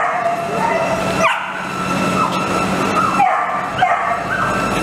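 Dogs in animal shelter kennels bark and yip repeatedly at moderate volume, with short pauses between bursts and a few whimpering notes.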